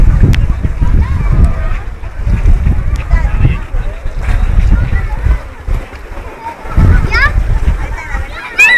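A child splashes into the swimming pool at Punta del Hidalgo, with watery splashing and churning under loud, excited talk from nearby adults and kids, plus some wind.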